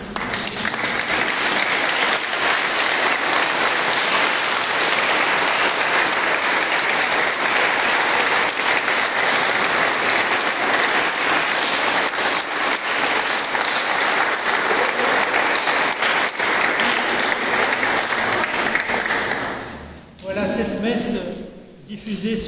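Congregation at a Mass applauding a parishioner celebrating a hundredth birthday, steady dense clapping filling the church for about twenty seconds before tapering off near the end.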